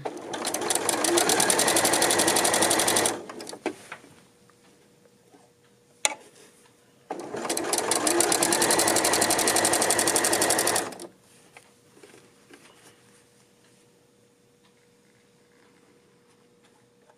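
A domestic sewing machine stitches fabric for a tunic in two steady, close bursts of rapid mechanical chatter, each about three to four seconds, separated by quiet handling and followed by near silence.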